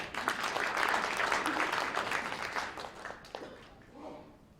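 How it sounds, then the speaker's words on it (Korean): Audience applause at a Korean church New Year prayer breakfast welcoming a National Assembly member to the podium, a dense burst of clapping that swells early and then thins and fades over a few seconds. "큰 박수로 모시겠습니다"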